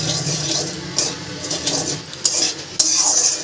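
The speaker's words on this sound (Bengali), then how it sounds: "খোলা কড়াইতে সুজিটা আমি ভেজে নেব" Semolina dry-roasting in an open kadhai without ghee or oil is stirred steadily, producing close scraping and clinking of a spoon against the metal pan with a faint hiss.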